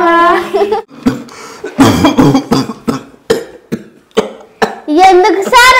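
An old man coughs repeatedly in loud, close, harsh bursts, broken by short gaps and some throat-clearing, with voices mixed in between the fits.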